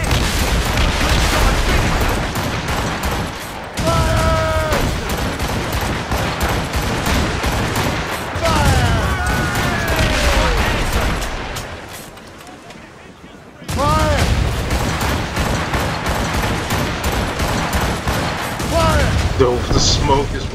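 Ship cannons fire in a naval battle in Assassin's Creed Rogue, dense booming volleys rolling almost continuously with brief lulls, loud and close, while voices shout over the barrage.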